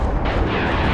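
Heavy warship cannon battery fire in the Battlestar Galactica Deadlock space combat game, a dense, loud, continuous rumble of blasts with no pauses.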